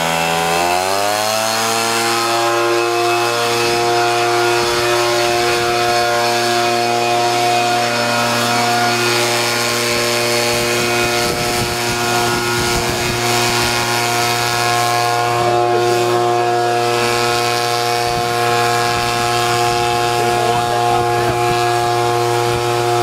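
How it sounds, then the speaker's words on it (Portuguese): A Guarany air blower used in coffee farming starts up and runs at a loud, steady high-pitched whine with a strong harmonic drone, blowing air continuously and close by for the whole stretch. "Então vou ligar, ele vai soprar uma área aqui para vocês verem a potência do vento dele."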